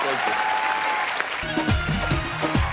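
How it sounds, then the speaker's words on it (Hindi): A studio audience claps steadily in a dense, continuous patter on a TV comedy show, with voices and music-like tones mixed in throughout. "जोरदार तालियां एक बार।"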